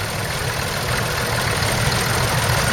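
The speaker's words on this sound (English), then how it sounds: "And hark at the tick of that engine" A 1941 little grey Ferguson tractor engine idles close by at an outdoor autumn show, a steady low rumble with a fine ticking running through it, continuous and unbroken with no voices.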